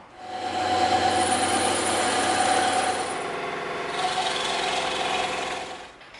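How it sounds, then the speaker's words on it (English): A bandsaw runs steadily as it cuts through EVA foam, producing a loud, continuous whir with a high whine that holds for several seconds before winding down at the end. "we're going to cut that out now on the bandsaw"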